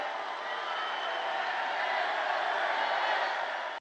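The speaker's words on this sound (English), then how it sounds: "the crowd cheered, "Say it, say it."" Rally crowd at a Donald Trump event cheering and chanting together, a dense steady roar of many voices that stays loud and unbroken before cutting off abruptly.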